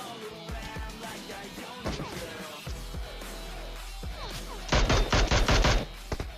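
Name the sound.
gunfire in the video game PUBG Mobile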